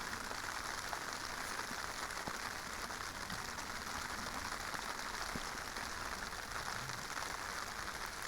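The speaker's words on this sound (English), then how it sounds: "right now it's just really more or less strongish raining" Steady, strong rain patters continuously on a wild camp tent at Loch Dochard, a dense even hiss with occasional louder drops striking the fabric close by, no voices.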